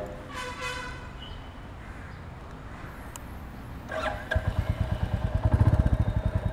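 A Royal Enfield Classic 350 motorcycle in Gunmetal Grey sits quietly while crows caw nearby, then its engine starts and settles into a steady, loud, thumping idle close by.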